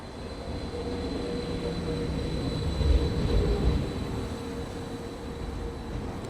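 Regional express train RE 99 to Gießen rumbling at a station platform, track 3: a steady low rolling drone with a louder swell near the middle, fairly close, no voices.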